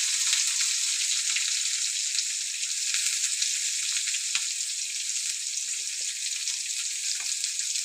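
Onions frying in a pan with beans and carrots for healthy ragi upma, a loud, even, continuous hiss of sizzling oil with occasional soft pops and no talk.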